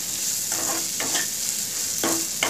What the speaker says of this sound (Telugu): ఆయిల్ వేసి ఉల్లిపాయ ముక్కలు దోరగా గోల్డెన్ కలర్ వచ్చే వరకు కూడా వేపించుకుంటాం.